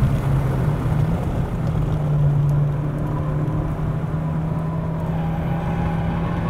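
A sports car on a race track's road course, holding a steady engine drone with a low sustained tone while cornering and braking, fairly loud and continuous with no talking.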